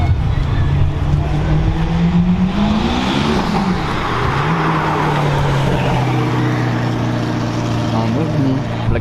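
A Mercedes Black Series and a Ferrari FF pull away together. Loud engines drone and rev up close, with the pitch rising and falling as they move off over steady background noise.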